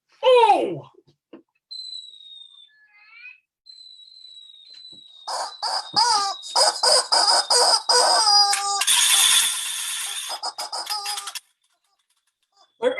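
A rooster crowing sound effect plays as a chicken alert on a talk show, with bursts of crowing and clucking calls followed by a dense rising squawk, loud and close, with some voice nearby.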